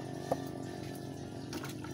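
Water gushing and draining out of the flooded air filter housing of a motorcycle that went through floodwater, a steady close splashing flow with a brief louder slosh near the start.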